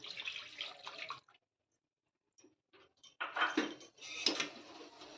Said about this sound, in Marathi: आता आपण ह्याच्यामध्ये जे उरलेलं हे पाणी आहे ते ऍड करून घेऊया